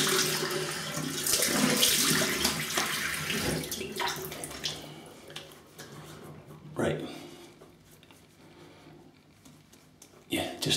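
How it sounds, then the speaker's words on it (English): Running water splashes as a face is rinsed after a shave with a RazoRock Hawk safety razor. The close, continuous splashing fades over several seconds, with a few louder splashes later. "let me have a quick rinse and feel about"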